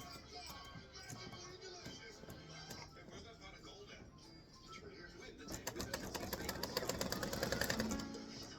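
An embroidery sewing machine is stitching a dove onto card stock with a rapid mechanical needle clatter. The clatter grows louder and denser toward the end, and it stays faint throughout.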